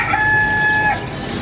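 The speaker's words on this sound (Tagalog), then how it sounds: "Maingay po ang mga ibon. Ang huni ng mga ibon." A rooster crowing near a house on an early, cool morning, with ducks nearby beyond the fence; one sustained tonal call rings out clearly, close and fairly loud, over a faint hum.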